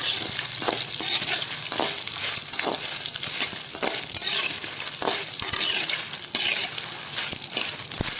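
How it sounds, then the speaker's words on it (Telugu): Constant close sizzling as chillies fry in a pan for gongura chutney, with faint scraping and stirring clicks scattered throughout and a watery, hissing wash underneath. "ఇప్పుడు వేయించేస్తున్నాము."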